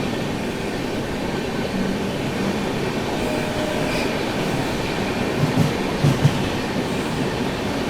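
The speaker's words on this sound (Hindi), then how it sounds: "तो अभी अपनी ट्रेन स्किप करने जा रही है सिरपुर कागजनगर रेलवे स्टेशन और उसके साथ ही तमिलनाडु एक्सप्रेस को ओवरटेक।" Duronto Express running fast past Sirpur Kagaznagar station while overtaking the Tamil Nadu Express, a steady loud rumble of wheels and rail noise with faint clatter and a few brief squeaks, heard from inside the train.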